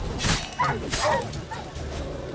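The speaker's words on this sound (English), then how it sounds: "Dogs!" Dogs barking in the video game Witcher 3, several loud, close yaps and growls layered over busy game combat sounds, with a voice talking at moments.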